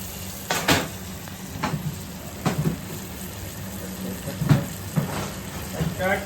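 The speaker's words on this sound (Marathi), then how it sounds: "थोडंसं टाकतोय लसूण बटरमध्ये" Garlic sizzles softly in butter over a low gas flame, with gentle crackling and a few stirring scrapes, while a voice talks intermittently nearby.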